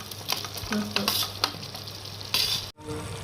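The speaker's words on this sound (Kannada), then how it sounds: "ಈಗ ಚಿಕನ್ ಪೂರ್ತಿ ಹಾಕಿ ನೋಡ್ರಿ ಇದನ್ನ ಹೈ ಫ್ಲೇಮ್ ಒಳಗೆ ಈ ಥರ ಮಿಕ್ಸ್ ಮಾಡ್ಕೊಳ್ಳೋಣ್ರಿ" Chicken pieces stir-fried in Kashmiri masala over a high flame, a close crackling sizzle broken by spatula scrapes and clinks against the pan, ending in a brief cut.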